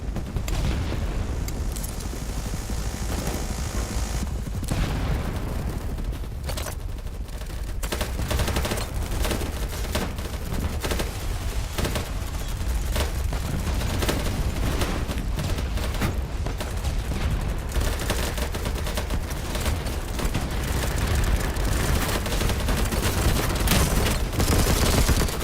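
Constant gunfire in the shooter game BattleBit: rapid automatic bursts and single shots mixed with heavy grenade blasts and booms. It is loud and dense throughout, with no talk over it.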